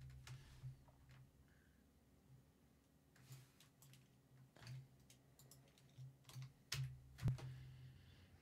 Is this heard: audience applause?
no